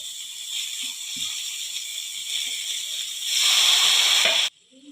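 Chopped dill leaves sizzling in hot oil in a pan for a Maharashtrian shepu bhaji, a steady close hiss and crackle that grows louder near the end, then cuts off abruptly.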